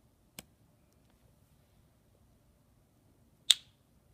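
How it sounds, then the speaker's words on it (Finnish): Two sharp finger snaps, widely spaced and close, aimed at a LittleBits sound-triggered light in a quiet room; the second snap is louder than the first. "Ja napsautuksesta syttyy."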